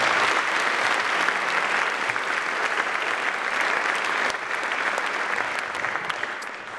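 Sustained, dense applause from a large audience at the Mississippi Boys State 2016 opening ceremony, a steady wash of clapping holding for nearly seven seconds and thinning slightly toward the end.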